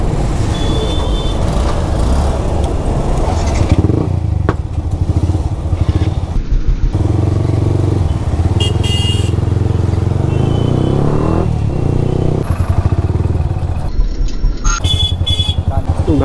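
A motorcycle ridden through traffic on the way to college, its steady loud engine and road noise continuous throughout, with voices talking at times over the ride.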